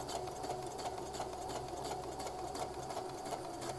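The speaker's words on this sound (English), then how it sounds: "I am going to do a couple of, maybe 3 back stitches here, and then I'm going to go ahead and sew." Sewing machine makes a few back stitches and then sews a narrow dress hem, giving a continuous even whirring hum, close and steady throughout.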